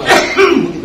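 A man imitates someone clearing their throat with a short, close, rough 'ahem' in two quick bursts, followed by a brief spoken word.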